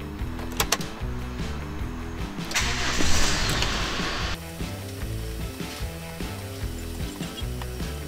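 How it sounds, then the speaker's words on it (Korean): Car engine cranked and started after a repair: a rhythmic cranking whir with a rising surge, then the engine settles into a steady, close idle with no speech. "시동을 걸고 테스트를 한번 해보겠습니다."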